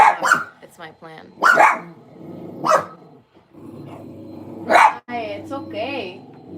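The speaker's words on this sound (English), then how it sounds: "Sometimes I feel really bad for shutting my dogs up because I remember that this is their way of communicating." Several dogs bark and growl in loud, close bursts spread across a few seconds, with yips between, and a person speaks among the barking.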